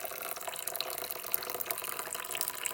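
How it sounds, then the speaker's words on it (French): Water poured out of a Thermomix bowl, a steady close splashing gush that runs without a break and with no talking. "je prends mon bol avec l'eau et je vide simplement l'eau"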